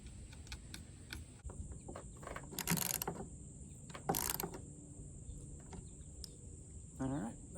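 Ratcheting and clicking of fasteners being tightened on the underside of a kayak roof rack, with scattered metallic clicks and a few louder rasping bursts close by, under a steady high background tone.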